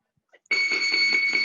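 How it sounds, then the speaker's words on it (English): A Muay Thai training round bell in a combat class rings out sharply after a couple of tiny clicks and holds as a steady, bright electronic ring with a faint pulsing underneath for about a second. "On the bell, we got 2 minutes to complete."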